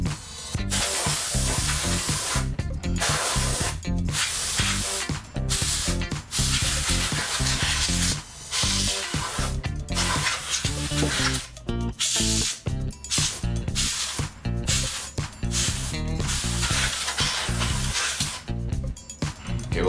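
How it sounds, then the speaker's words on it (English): A can of compressed air duster blasts into a Sega Genesis Model 2 console in loud, close hissing bursts, long sprays broken by short pauses in an irregular rhythm, with no talking. "hold it straight up and just spray it, and just watch all the stuff that comes off this"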